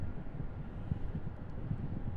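Wind gusting into the microphone outdoors at Raleigh-Durham International Airport, a continuous low buffeting rumble with uneven pulses, close and moderately loud, with no talk.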